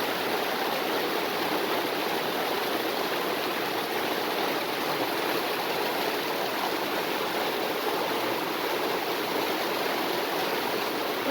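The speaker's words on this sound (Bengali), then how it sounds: "হঠাৎ করে প্রচুর বৃষ্টি আমাদের এখানে" Heavy rain pours down in a steady, unbroken hiss and rush of water that stays even and fairly loud for the whole stretch, with no voices.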